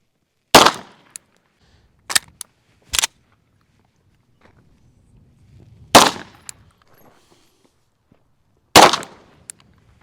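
Four or five sharp, loud gunshots from a rifle fired from the hip at about 100 yards, spaced irregularly over several seconds, each with a short decay and faint quiet between.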